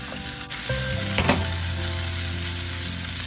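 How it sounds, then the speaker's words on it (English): A NY strip steak sizzles hard in a pan while hot oil is spooned over the top, a loud continuous fry with a brief clatter of the spoon, close and alone. "you're no longer just hitting it from the bottom, you're also basting hot oil on the top"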